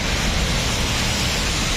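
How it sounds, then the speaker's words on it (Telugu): Heavy rain pouring down outdoors as a constant, loud, broadband hiss that stays unbroken from start to finish. "ఏ వర్షం నువ్వు ఇక్కడే కురుస్తున్నావు"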